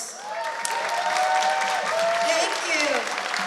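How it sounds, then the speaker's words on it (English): Steady applause fills a Lunar New Year banquet hall held by a Chinatown business association, even and sustained, with faint tonal voices or music gliding underneath. "I would like every one of you to give yourself a round of applause"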